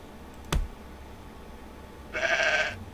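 Sheep bleats from the video game Medieval Dynasty: one sharp click-like thump early, then a short, fairly loud bleat near the end over a quiet background.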